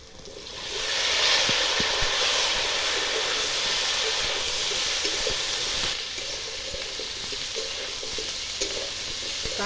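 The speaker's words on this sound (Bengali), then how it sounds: "কাঁঠালগুলো দিয়েও ভালো করে ভেজে নেব একটু।" Jackfruit pieces and potatoes frying with turmeric in a pan: a loud, continuous sizzle and hiss up close, with scattered stirring clicks and scrapes and no speech.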